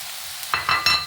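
Capsicum and potato sizzle in a pan for an aloo capsicum stir-fry, with a steady hiss broken by three quick stirring scrapes near the end, close and fairly loud, with no voices.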